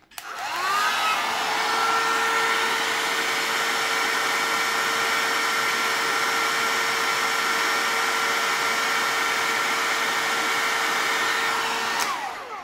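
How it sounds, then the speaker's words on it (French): A hair dryer whirs loudly and steadily at close range for about twelve seconds, heating a coffee maker's temperature sensor, starting and cutting off abruptly with a constant high whine. "Donc je prends mon sèche-cheveux"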